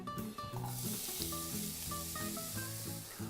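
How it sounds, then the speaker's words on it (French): Onions sautéing gently in canola oil over low heat, a soft continuous sizzle running beneath tonal music in the background, with no talk. "On fait attention de faire revenir les oignons dans un feu doux."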